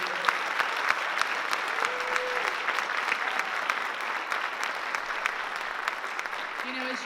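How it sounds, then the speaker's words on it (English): An audience claps for hardworking scholarship students at a school event: dense, steady applause from a crowd that holds evenly for several seconds, with a few voices mixed in. "give one more round of applause to these hardworking students"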